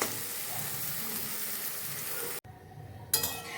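Masala for Bengali egg curry sizzles steadily in a pan, then cuts off abruptly as water is poured in, followed by a short quiet gap and a renewed burst of sizzling with a clink of utensils.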